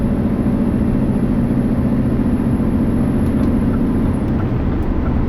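A truck engine pulls steadily uphill in ninth gear in power mode, a loud continuous low rumble heard from inside the cab.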